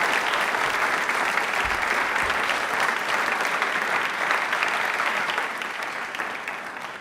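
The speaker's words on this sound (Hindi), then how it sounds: "तालियां एक बार जोरदार बजा दीजिए मैम प्लीज।" Studio audience applause at a television quiz show for Independence Day, a loud, steady wash of many hands clapping that tapers off toward the end.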